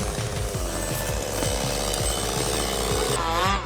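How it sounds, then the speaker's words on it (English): A chainsaw cutting through wood holds a loud, steady, rough engine drone with pulsing strain close up for several seconds, ending in a sudden knock. "This is the kind of chainsaw that makes viewers clearly feel its power, speed, and mechanical performance pushed to the maximum."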